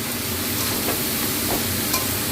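Spices with salt and turmeric are stirred in a hot pan, giving a continuous sizzle with soft scraping strokes from a spoon at irregular moments.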